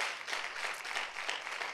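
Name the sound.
applause for the Lord in church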